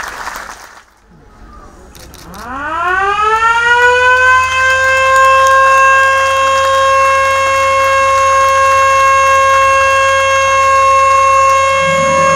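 A ceremonial siren is sounded at a power plant inauguration, cut in after a brief pause and rising into a loud, sustained wail that holds steady for many seconds. There's no talk over it.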